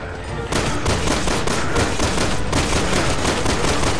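Dense, continuous automatic gunfire rattles in Resident Evil 6. It starts abruptly after a brief lead-in and stays loud and rapid throughout, with no gaps.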